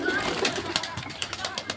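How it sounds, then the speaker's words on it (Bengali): A flock of pigeons cooing at a resort with a park and playground, soft murmuring calls layered over a busy, steady outdoor background throughout the short stretch. "দেখেছেন কত সুন্দর কবুতরের মেলা দেখেছেন"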